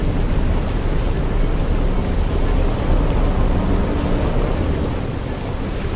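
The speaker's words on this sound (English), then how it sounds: "this gushing flow of the massive waterfall" Dettifoss, a massive and powerful waterfall in Iceland, gushing as a steady, loud, broadband roar with no break, close and unbroken throughout.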